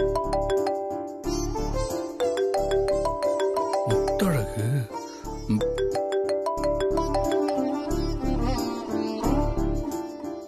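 A phone ringtone plays during a call in a Tamil TV serial, a steady electronic melody that repeats loudly over a persistent background score.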